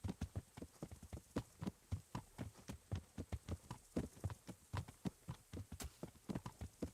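Horse hooves clop in a steady, quick rhythm in the medieval game Kingdom Come: Deliverance, soft and continuous over a low hum with no talking.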